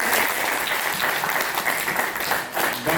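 Wedding guests burst into loud, dense applause that holds steady for about three seconds, a close, continuous wash of many hands clapping together with no voices standing out.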